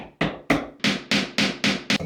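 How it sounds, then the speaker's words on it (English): Hammer tapping small wooden dowels into glued holes, seven sharp close knocks at a fairly even quick rhythm. "Then I'm gonna hammer it in."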